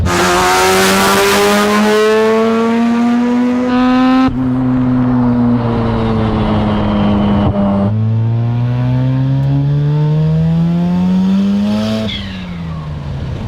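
A ported twin-turbo 13B rotary in a Mazda RX-7 FC drives hard and loud, revving up through the gears in rising sweeps with abrupt shift breaks and a raspy, buzzing exhaust tone.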